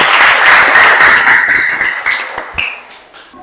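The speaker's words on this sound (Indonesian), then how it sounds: "Tepuk tangan untuk kita semuanya." A class claps together in a dense burst of applause that fades into scattered single claps and taps near the end.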